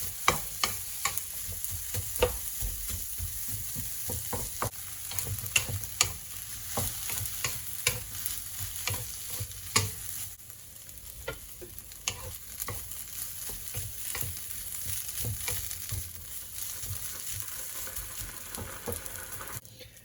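Onions fry in a pot for goat jollof, giving a continuous crackling sizzle punctuated by frequent scraping stirs and clinks, close and steady throughout with no voices.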